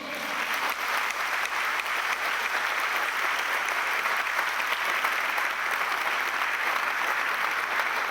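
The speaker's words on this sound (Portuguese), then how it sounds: "Aplaudamos ao Senhor." A church congregation at the Assembleia de Deus Madureira cathedral in Mogi das Cruzes claps enthusiastically, a dense, sustained wash of applause from a large crowd that holds steady for about eight seconds without voices.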